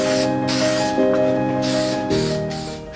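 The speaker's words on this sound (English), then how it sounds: "I'll remove the rest of the oxidation from the hardware and apply a layer of lacquer for brass." Brass lacquer sprayed from an aerosol can onto furniture hardware in a two-car garage, a loud continuous hiss in bursts separated by brief pauses, over a steady tonal hum in the background.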